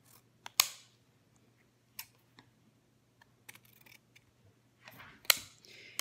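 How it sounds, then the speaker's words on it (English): A few crisp, close snips of scissors cutting the ends of craft bow ribbon at an angle, separated by short quiet gaps. "how I do the two ends, is I cut them at an angle like this"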